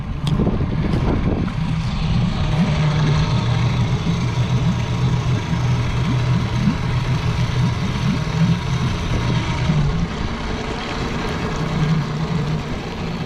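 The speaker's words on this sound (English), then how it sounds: "You hear that engine is running." A 30 hp fuel-injected four-stroke inboard engine on a 1984 Camper & Nicholsons 35 ft sailboat idling steadily, a low continuous rumble with a faint hum, close by and without talk.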